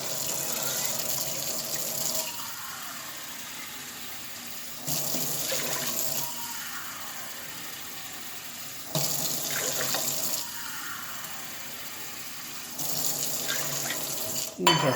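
Cold water runs from a kitchen tap into a pot, a steady close hiss and splash that changes tone several times as the flow shifts or the vessel moves, with no speech.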